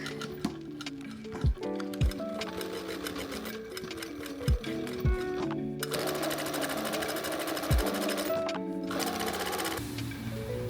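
A sewing machine stitches a corset with spiral steel boning, a steady close rhythmic chatter with brief pauses and a few sharp clicks and knocks between runs.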